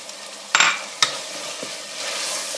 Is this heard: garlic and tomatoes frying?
yes